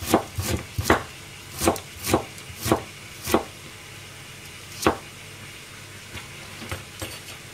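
Carrots chopped with a knife on a meat cutting board, a string of sharp close knocks in an uneven rhythm, some quick pairs and then sparser strikes, over a faint simmering background.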